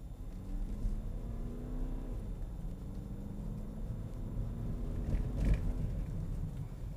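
Low engine rumble inside a BMW 2 Series Gran Tourer building steadily as it accelerates toward 90, with road noise underneath and a brief knock partway through; no one speaks.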